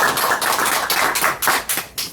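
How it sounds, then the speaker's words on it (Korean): An audience at a lecture hall talk breaks into brief, close, fairly loud applause made of quick, uneven claps. "두 분께 박수 부탁드립니다"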